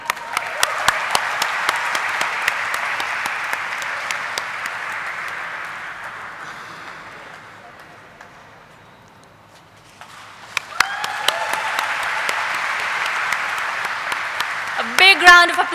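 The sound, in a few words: applause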